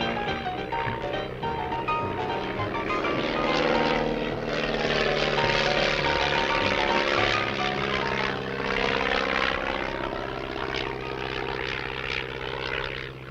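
A propeller airplane flies over desert country, its engine a steady, full droning roar that swells and recedes slightly in a continuous hum with no talk.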